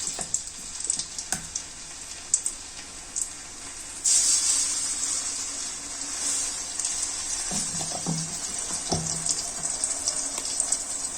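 Hair-oil ingredients go into hot oil in a thick pan and fry with a bright, continuous sizzle that swells loudly partway through, with a few clinks of a ladle near the pan.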